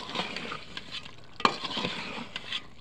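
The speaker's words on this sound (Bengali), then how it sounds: "মাংস নিয়ে এসেছে, মোষের মাংস। সেগুলো রান্না করতেছি।" Buffalo meat is stirred in a sizzling pan, with a steady frying hiss, scraping stirs and one sharp clink of the utensil against the pan.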